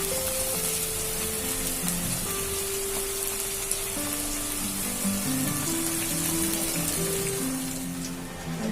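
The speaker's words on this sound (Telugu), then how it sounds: "మనం చేసే పచ్చడిలో కొత్తిమీర చాలా డీప్ ఫ్రై అవ్వాలి" Coriander leaves deep-fry in oil for a chutney, making a continuous close sizzle and crackle that holds steady throughout.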